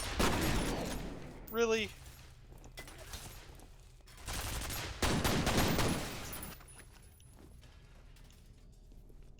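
Automated defence turret in FEAR firing in loud rattling bursts, each about a second long, separated by quieter stretches, with a short spoken remark and some electronic tones in between.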